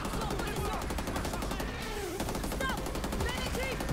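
Rapid automatic gunfire rattles without a break through a firefight in Rainbow Six Extraction, the dense bursts overlapping with other game sounds and faint voices.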